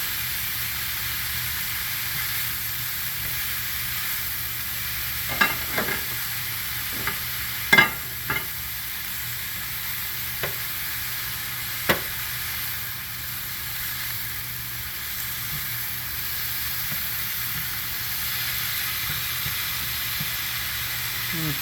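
Zucchini noodles and tomatoes sizzle softly as they cook down in a pan, a steady low hiss of frying with a few sharp utensil clicks and taps scattered through the first half.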